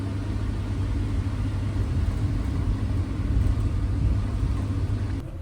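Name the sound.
Vande Bharat Express train arriving at Prayagraj Chheoki station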